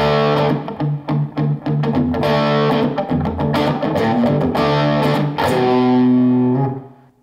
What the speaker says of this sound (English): and then you palm mute to get that crunch